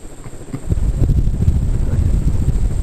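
A K55 electric fan with 13-degree pitched blades, high speed around 230 RPM, starts up and runs as a steady low, rumbling rotor drone that settles in after a soft onset.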